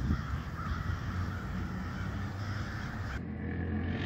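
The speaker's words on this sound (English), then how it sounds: "How many crows are there?" A large flock of crows caws continuously overhead, the calls blending into a dense, steady chorus that fills the air with no talking.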